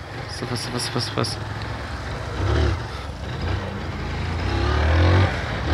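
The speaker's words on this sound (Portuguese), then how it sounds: "Carro." A car passes on the road, its low rumble swelling and fading twice against steady wind noise outdoors.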